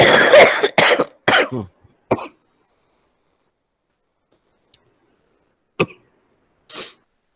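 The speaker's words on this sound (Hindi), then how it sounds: "भाई बहुत खांसी हो रही है यार," A person coughs repeatedly, a quick burst of several harsh coughs up close, then silence broken by a couple of isolated coughs or throat clears.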